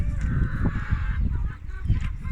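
Chickens and young hens in a coop in the morning, 17-week-old and 8-month-old birds, cluck and chatter in a steady, busy flock murmur close by, with faint honk-like calls mixed in.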